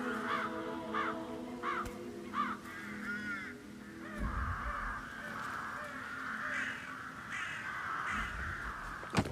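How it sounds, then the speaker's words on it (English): Crows caw repeatedly in Hitman 3, several harsh calls in a rhythmic series early on over a steady ambient game backdrop, then fading into a busier din of crowd murmur and low thumps. "Damn birds."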